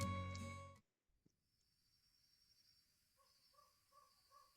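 In the video game Our Life: Beginnings and Always, a loud chime cuts off into near silence, then faint cricket chirps from tall grass pulse in a quiet, regular pattern against a soft night backdrop.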